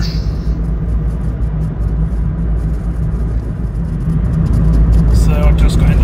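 A Robin Reliant three-wheeler with a straight-through big bore exhaust pulls out on a foggy night street in Lowestoft, its engine a steady low rumble that grows louder toward the end.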